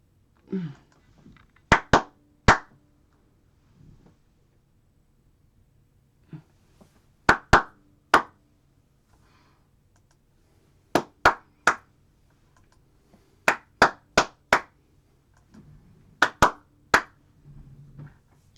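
Sharp single hand claps in a quiet recording studio, struck close to the microphone in irregular bursts of two to four with gaps between, while a guitar's strings ring faintly underneath.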